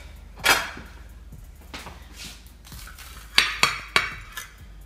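A kitchen knife clinks and scrapes against a plate while grilled cheese and tomato soup are being made, with a few sharp metallic taps toward the end and quieter handling between them.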